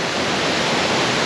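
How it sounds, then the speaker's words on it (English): Waterfall near the source of the Säntisthur river in the Swiss hills, a loud, steady rushing roar of falling water heard close by, with no voices. "There's the waterfall that we saw earlier"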